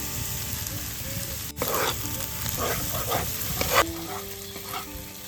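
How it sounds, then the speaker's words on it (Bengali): Onion fries in hot oil as onion paste and ginger-garlic paste go into the pan, a steady close sizzle with a sudden flare and stirring scrapes, and a dog barks faintly in the background. "পেঁয়াজটা হালকা করে ভেজে নিয়েছি এবার পেঁয়াজ বাটা দিয়ে দেবো আদা রসুন বাটা"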